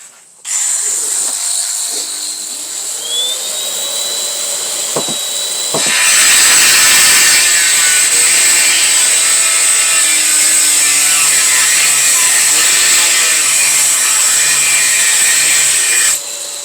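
A rotary engraver with a diamond disc whines steadily, then bites in with a louder, harsher grinding buzz as it cuts, continuing without pause.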